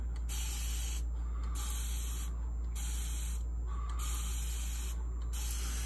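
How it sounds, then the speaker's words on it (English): A spray bottle mists a chameleon in repeated short hissing bursts, roughly one every second, with a bright airy spray over a steady low background hum. "It's a real fine mist"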